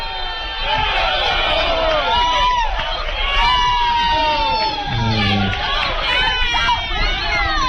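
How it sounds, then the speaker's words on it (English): Coffeyville basketball crowd in a gym at a Coffeyville vs Pratt men's college game reacting to a blocking foul call, a loud sustained hubbub of voices and shouts filling the whole stretch. "Coffeyville crowd doesn't like that one"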